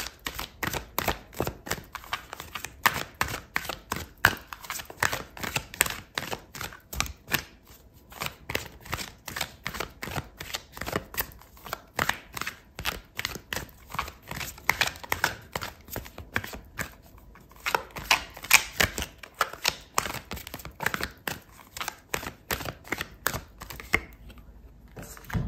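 Tarot cards being shuffled and pulled, a long run of rapid, crisp riffling clicks and flicks with brief pauses, close and fairly loud, with no talking.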